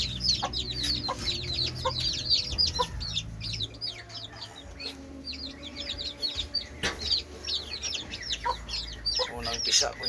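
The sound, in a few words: chickens clucking, hen with her first hatched chicks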